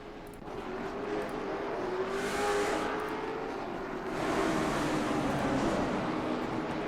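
Late model stock cars race around the Hickory track in a steady, loud engine roar, with the pack's drone swelling and fading as cars pass, and no voices over it.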